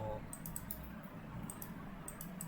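A computer mouse clicks in a few quick, crisp pairs and triplets, light and close, over a steady low background hum.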